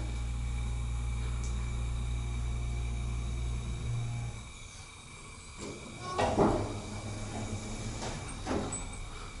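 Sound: ThyssenKrupp Signa4 elevator door closing

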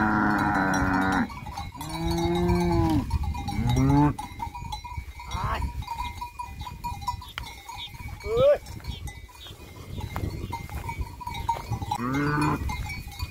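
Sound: cattle herd pushing through a narrow farm gate

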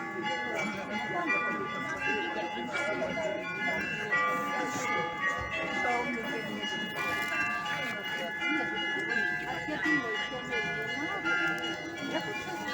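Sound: church bells ringing in Chernihiv

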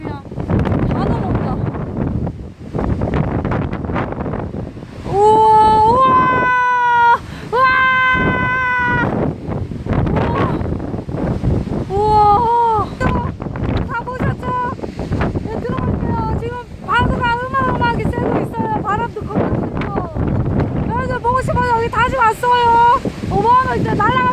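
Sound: typhoon Bavi wind on Chuja Island, Jeju

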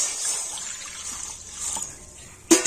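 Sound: water being poured into a wok (kadai)

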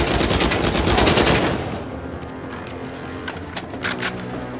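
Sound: gunfire from a gun in the video game Uncharted 4

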